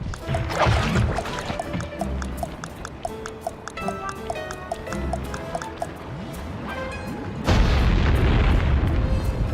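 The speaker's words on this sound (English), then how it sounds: "Place the dynamite when you get near the anchor, or kaboom!" A dynamite blast at an anchor in the Sly 3 game goes off as a sudden loud boom with a low rumble, after a stretch of clinking, dripping game sounds and music.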